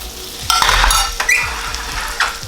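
Button mushrooms and truffle gnocchi sauteing in oil in a pan, a steady close sizzle broken by a few sharp scrapes and stirring knocks, with no voices.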